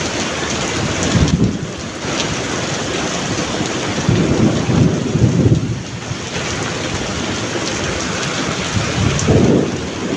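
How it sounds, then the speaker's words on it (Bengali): Heavy rain pours steadily in Malaysia, loud and close, while deep rolls of thunder swell up three times across the downpour, with no one speaking. "প্রচুর বৃষ্টি হচ্ছে, প্রচুর বৃষ্টি হচ্ছে।"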